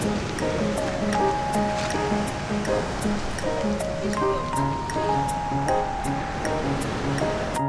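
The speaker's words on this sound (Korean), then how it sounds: "오늘 파도가 세다." Strong ocean waves break on the shore at Yangyang, a continuous rushing surf, with music or tones playing over it.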